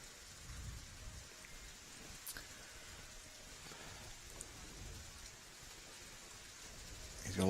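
Light drizzle patters steadily over an outdoor bowls championship green, a soft continuous hiss with scattered faint taps, fairly quiet throughout.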